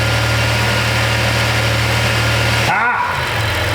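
Dodge Caravan minivan engine held in drive against the brakes, a steady low droning rev that holds even for nearly three seconds, then a brief sharp clunk and the drone settles lower.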